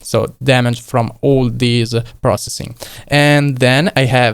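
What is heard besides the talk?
No everyday noise stands out behind the speech.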